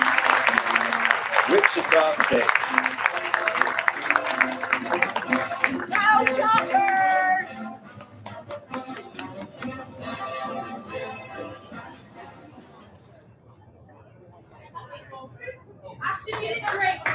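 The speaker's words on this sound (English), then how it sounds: "Round of applause." Audience applause at a collegiate bowling post-season awards show in Las Vegas: loud, dense clapping fills the first several seconds, then fades into a quieter crowd murmur as a speaker talks.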